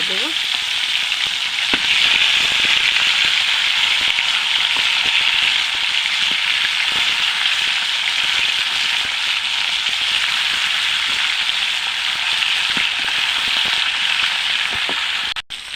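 Pieces of tilapia frying in a pan give off a loud, even sizzle with fine crackling pops that continue steadily throughout.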